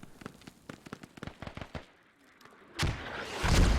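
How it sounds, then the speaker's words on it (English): Mortar fire in a real-time strategy match: a quick run of sharp thumping reports, then heavier booming impacts that swell and roll out near the end, with no talk. "Those Mortars are not accurate enough."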